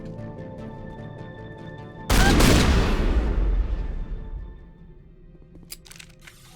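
Shotgun blast in the video game Mass Effect: one sudden loud close boom at about two seconds, a dense burst that fades slowly over the next two seconds above a low hum, followed by faint clicks.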